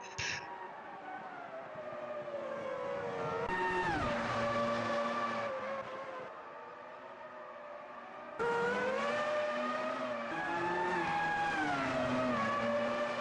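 Formula One race cars at the 2002 San Marino Grand Prix in a racing video game, engines screaming loud and close with rising and falling pitch as they pass, one car running wide off the track.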